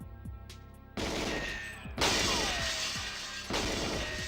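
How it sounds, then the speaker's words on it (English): Glass shatters under gunfire in GoldenEye 007, with loud, sustained crashing bursts that restart in three waves, each abrupt and dense with smashing debris. "Such a loud and satisfying glass breaking noise."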